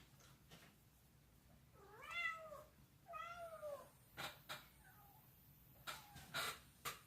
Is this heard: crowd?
no